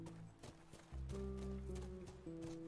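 Horse hooves clip-clop in The Last of Us video game, steady trotting footfalls under background game music, faint and close.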